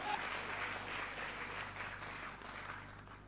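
An audience applauds at a motivational seminar, producing a faint, steady wash of clapping that continues evenly for a few seconds with no pause.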